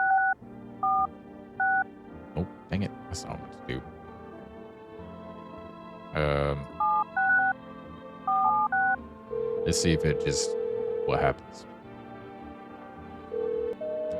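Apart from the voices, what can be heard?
phone dialing in video game No I'm not a Human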